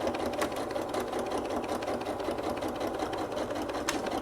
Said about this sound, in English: I'm going to just slowly use the sewing machine to go all the way around.